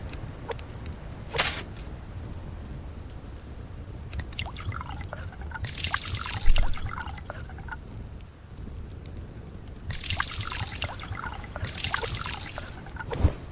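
A character in the survival game Subsistence drinking and refilling a water container, with trickling, splashing bursts of water repeated a few times over steady ambient game noise.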